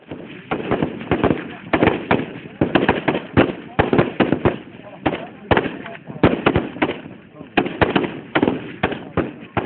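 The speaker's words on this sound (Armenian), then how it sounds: "Կրակում եք բայվոյ պատրոններով։" Live-cartridge gunfire at a school shooting range in Metsamor, sharp shots cracking in irregular bursts, sometimes several close together, loud and near throughout the clip.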